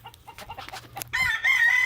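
A Sweater gamecock crows loudly and close in a homestead coop, following a run of soft, scattered hen clucks among brown red and Kelso chickens.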